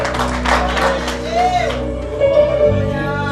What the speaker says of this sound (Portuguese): Quem pode aplaudir ao Senhor, aplauda o Senhor nesta manhã.